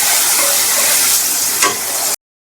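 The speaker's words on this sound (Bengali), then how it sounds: "দিয়ে এবার ভালো করে আমি মশলাটাকে কষাবো" Masala spices with a splash of water and tomato sauce fry in oil in a pan for a Bengali banana-flower curry. There is a loud, steady, close sizzle with a brief stir partway through, and then it cuts off abruptly.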